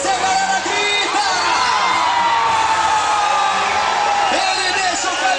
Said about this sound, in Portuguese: Quando ele descer, a galera grita.